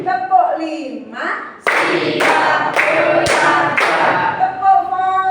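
Schoolchildren in a fiqh class clap in unison following a counted clapping game, producing four strong, evenly spaced bursts of group clapping, with a teacher's voice calling out at the start and end.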